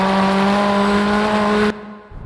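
A 2022 Hyundai N car, an Elantra N or Kona N, gives a loud, steady exhaust drone with a constant pitch while driving, then cuts off abruptly near the end.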